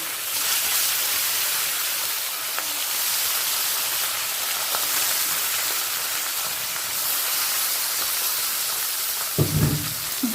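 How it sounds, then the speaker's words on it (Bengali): Bata fish coated in salt and turmeric frying in hot oil in a pan, a continuous dense sizzle and hiss throughout, with a brief clatter of handling near the end. "একে একে ছেড়ে দেব লবণ আর হলুদ মাখানো বাটার মাছ"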